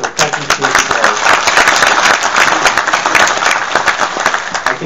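A large crowd applauds at an Irish citizenship ceremony, loud dense clapping that carries without a break from start to finish.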